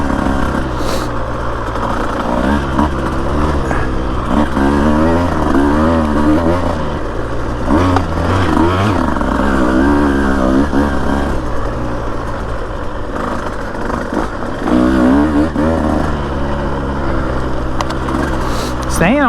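A Husqvarna TE150 dirt bike rides single track near Florence, Arizona, its two-stroke engine buzzing loudly and close with constant revving that rises and falls as the throttle opens and closes.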